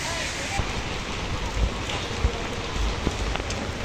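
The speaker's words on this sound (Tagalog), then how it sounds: "sitwasyon kay Diwata kapag ulan" Steady rain patters on a surface, a dense hiss with occasional heavier drops and faint thumps, continuous and fairly close.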